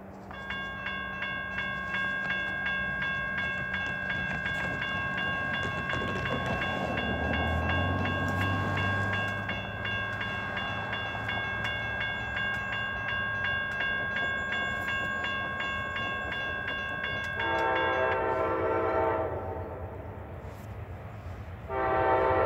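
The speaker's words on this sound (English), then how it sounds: "here comes Amtrak 53, the auto train" The Amtrak 53 Auto Train rumbles past close by in Callahan, Florida, while a loud multi-tone horn blares steadily for a long stretch, then sounds again in a final short blast.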